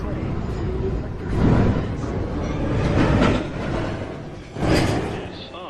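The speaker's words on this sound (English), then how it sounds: "There is a train approaching track 1." An NYC subway 1 or 2 train rumbles into Lincoln Center station, a steady rolling roar with swelling surges of wheel and rail noise, echoing on the platform alongside automated announcements.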